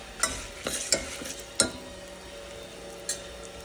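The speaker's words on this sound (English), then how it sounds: "So basically, the mustard seeds have started to splutter." Mustard seeds splutter in hot oil for a tadka with dry red chilies, sharp scattered pops and crackles over a soft steady sizzle, close and fairly quiet.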